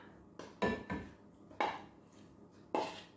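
Butter is scooped into a mixing bowl for chocolate chip cookies, with four sharp, close spoon knocks against the bowl spaced irregularly over a quiet background.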